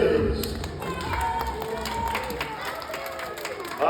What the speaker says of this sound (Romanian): Aplauze pentru Tails!